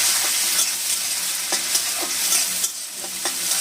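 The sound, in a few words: tomato being sautéed in a pan with chili and nuts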